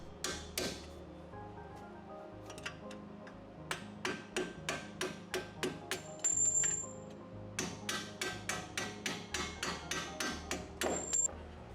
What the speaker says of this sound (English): Tap the strut bolts out.